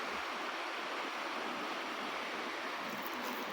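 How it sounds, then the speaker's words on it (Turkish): Stream flowing beside a village house, a steady broadband rush of running water, continuous and even with no voices. "evimizin kenarındaki dere."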